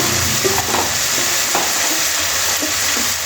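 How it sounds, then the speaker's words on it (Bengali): Ginger, garlic, chili, cashews and whole garam masala spices fry in hot oil in a pan, with a steady close sizzle and soft scraping stirs throughout. "এবার দিয়ে দেব এখানে আদা, রসুন, লঙ্কা, কাজু আর গোটা গরম মশলাগুলো।"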